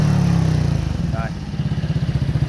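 A Honda SH 2020 scooter fitted with an aftermarket 4Road exhaust revs up close, its low engine drone swelling into a run of rapid, pulsing throttle blips.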